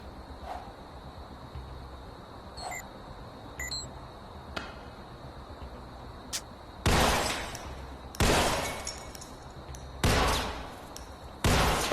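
Gunfire from a VR haptic gun stock in the game Dead Second: a few faint, sharp shots early on, then four loud, broad blasts of a second or so each, spaced about a second and a half apart.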